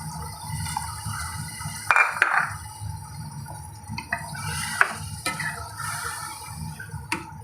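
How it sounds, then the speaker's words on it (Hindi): Half a cup of water poured into a pot of chicken that has been browned with spices, for a chicken and capsicum curry. A couple of brief splashing, clinking bursts sound over a steady kitchen hum. "अब हम इसके अंदर ऐड कर देंगे ½ कप पानी।"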